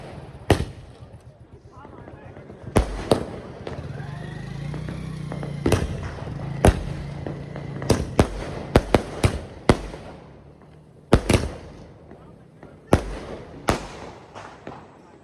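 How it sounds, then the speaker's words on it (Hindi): Diwali firecrackers bursting outdoors, a series of sharp, loud bangs scattered irregularly with clusters of quick pops, some near and some farther off, with people talking and a passing vehicle rumbling between them. "आज के ब्लॉग को आप लोग देखिए हम लोग कितना पटाखा फोड़े"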